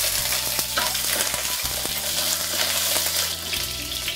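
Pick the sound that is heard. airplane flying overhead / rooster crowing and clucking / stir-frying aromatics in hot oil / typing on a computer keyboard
stir-frying aromatics in hot oil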